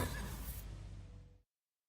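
A horse neighs once in a loud, close whinny lasting over a second, trailing off into silence.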